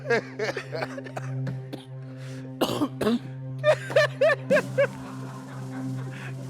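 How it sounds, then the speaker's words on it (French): Several short, sharp coughs come in quick bursts, some in rapid clusters, over a steady background hum in a studio setting, with a little throat clearing mixed in. "La toux."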